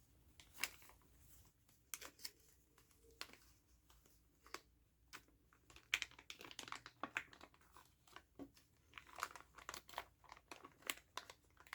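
A small plastic bag holding trading cards crinkles softly and close up in a quiet room, with irregular bursts of light crackling and rustling throughout and no talking.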